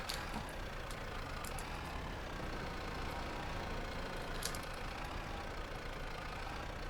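A tractor engine idles in the Farming Simulator 25 video game. A steady, fairly faint mid-pitched engine drone continues without a break.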